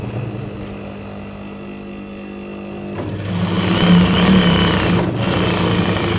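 A sewing machine runs a long seam along a 1.5-inch salwar waistband casing, a steady mechanical hum that grows louder and busier partway through.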